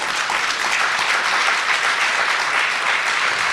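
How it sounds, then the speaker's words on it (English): Audience applause at a fireside chat launch event, dense and sustained clapping from a sizable crowd filling the room evenly, fairly close and loud with no talk over it. "Guys, round of applause for that."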